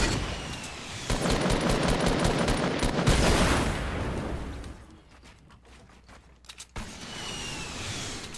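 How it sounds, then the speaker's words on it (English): Weapon fire in the video game Fortnite, including an RPG rocket launcher, heard as loud rapid bursts and blasts, then a quieter stretch of scattered clicks before more firing. "That's an RPG."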